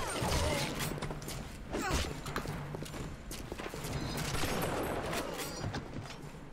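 A dense, rattling run of shotgun blasts and clattering impacts in the BioShock video game, close and loud, with several sharp reports spread across the stretch amid noisy background action.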